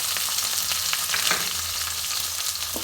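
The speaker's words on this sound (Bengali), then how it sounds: "তো আমি এবার কুচানো পেঁয়াজটা দিয়ে দিচ্ছি" Chopped onion added to hot oil already holding fried chillies, cumin and asafoetida, for a vegetable and fish chochchori; a loud, steady close sizzle runs throughout with light crackles and no voices.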